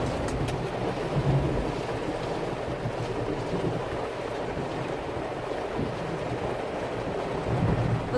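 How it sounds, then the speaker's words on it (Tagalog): Steady rain drums and hisses around a vehicle moving slowly through city traffic, a dense continuous wash with low rumble beneath, fairly loud and unbroken, no voices. "Pagmasdan ang ulan, unti-unting pumapatak."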